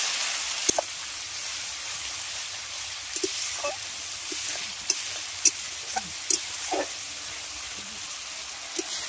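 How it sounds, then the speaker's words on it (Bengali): Spice paste frying in a pan with small splashes of water, a steady soft sizzle broken by occasional scrapes and clicks from stirring, moderately close. "কষানোর সময় আমি অল্প অল্প করে জল দিচ্ছি।"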